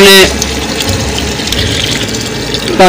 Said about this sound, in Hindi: 4 किलो हम पानी डालेंगे